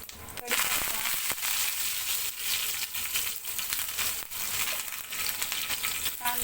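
Curry leaves and cumin dropped into hot oil for a Vidarbha-style chana paneer bhurji, a dense crackling sizzle that spreads loud and continuous, with sharp pops and spatters over the whole stretch.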